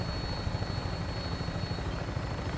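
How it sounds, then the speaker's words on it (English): Helicopter in the Fallout 4 video game heard as a steady, dense rotor and engine drone, even and unbroken at moderate level, with a faint high whine riding over it. "we get to have a nice, cool little minigunner scene on the side of a helicopter"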